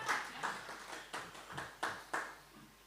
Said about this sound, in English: thank you for starting the applause